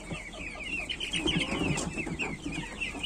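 Young broiler chicks cluck and peep continuously at close range while eating spilled chick feed, a busy chorus of small chirps and soft clucks with faint pecking underneath.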